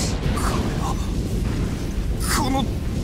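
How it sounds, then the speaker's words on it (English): Deep rumbling explosions and booms from the Sorcery Jokers game roll on continuously under a voice that talks over them, with a few brief brighter bursts along the way. "did you hear the explosions?"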